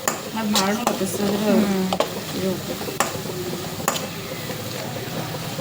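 Tomato masala frying in a pan, with a low sizzle and several sharp spoon knocks against the pan while a person talks over it.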